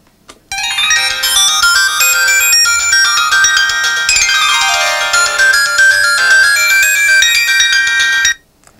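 A Doro phoneEasy 410gsm mobile phone plays its ringtone at extra loud volume: a continuous, bright electronic melody with a descending run partway through, loud and unbroken for about eight seconds before stopping abruptly.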